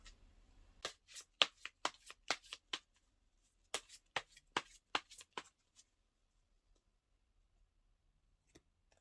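Tarot cards are shuffled and riffled in a quick run of crisp, snappy flicks, then a short pause and a second burst, fading to a few isolated taps in a quiet room with no talking.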